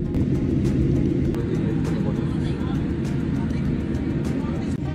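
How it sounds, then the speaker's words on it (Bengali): A steady, loud, broadband rumble from inside a Boeing 787-8 Dreamliner taxiing toward the runway before takeoff, on a flight from Dhaka to Dubai. The drone holds constant throughout with no breaks. "আমাদের বিমানটির সামনে একটি এয়ারস্টার বিমান রয়েছে, এটার পরেই আমাদের বিমান ফ্লাই করবে।"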